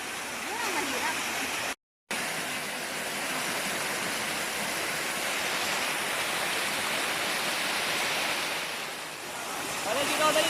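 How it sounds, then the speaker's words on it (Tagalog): Strong rushing water pours down a tier of Katapang Falls in Pagbilao, Quezon, a dense, steady roar close by that fills the whole stretch, broken by one brief dropout, with voices faintly mixed in. "Ang lakas ng agos ng tubig."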